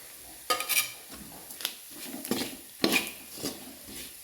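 A utensil scrapes and taps against a pan while chicken mixture with chilli flakes is stirred for chicken perattu, with soft irregular clinks and a faint sizzle underneath, close and fairly quiet.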